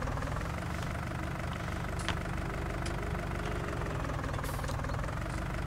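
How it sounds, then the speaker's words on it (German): Tractor engine idling steadily in Farming Simulator 19, a continuous low knocking drone with a dense, even rumble throughout and no talk. "Also, wie gesagt, Motorsound."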